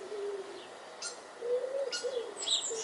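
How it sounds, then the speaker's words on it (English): Birds sing in a dawn chorus before sunrise, with soft cooing calls low down and brighter chirps and tweets above, several overlapping voices near to mid-distance with no talking. "Can you hear the birds singing?"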